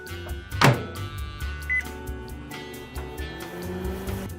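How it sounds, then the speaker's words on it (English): A microwave oven heating a slice of pizza hums steadily with a low electrical drone, a brief clatter near the start and a faint beep partway through. "if you heat up a piece of pizza in the microwave"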